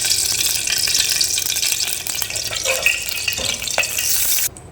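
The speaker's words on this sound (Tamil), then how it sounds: "ஸோ சட்டி நல்லா சூடாகிடுச்சு. ஸோ எண்ணெயை ஊற்றிடலாம்." Oil poured into a hot kadai while making jeera pulao, giving a steady close sizzle and stirring clatter with small scrapes, then cutting off abruptly near the end.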